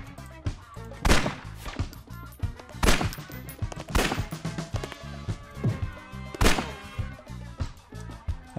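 Gunfire in The Masterplan video game, with repeated loud shots and bursts at irregular intervals, layered over background music and game effects.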